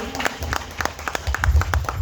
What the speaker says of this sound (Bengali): সবাই মিলে একটু জোরে হাত তালি